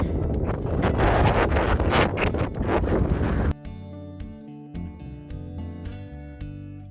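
Strong, steady wind roars and buffets the microphone on Franconian Ridge in New Hampshire's White Mountains, then abruptly drops away, leaving quieter gusts and flapping noise.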